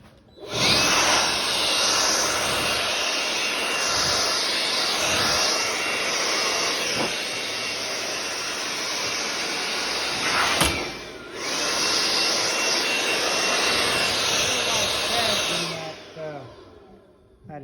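Compressed-air blower hissing steadily as it blows dust off a flat epoxy slab in a workshop, a loud continuous rush with one brief break partway through before it resumes and tapers off.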